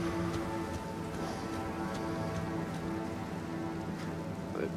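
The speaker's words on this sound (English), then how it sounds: "now it's raining" Steady rain falls across the landscape in the video game Elden Ring, a continuous patter of drops on surfaces with a low ambient drone beneath, no voices.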